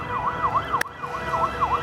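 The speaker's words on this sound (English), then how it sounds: "It's a fire truck, an ambulance" Fire truck and ambulance sirens at a busy Warsaw roundabout, wailing in a steady rising-and-falling cycle, loud and close, with a sharp click partway through and road traffic underneath.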